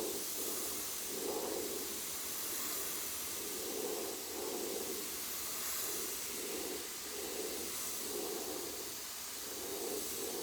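An airbrush sprays paint onto a baseball helmet with a steady, close hiss, accompanied by a soft, rhythmic pulsing.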